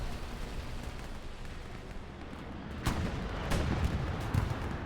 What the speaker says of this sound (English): Explosion in the north.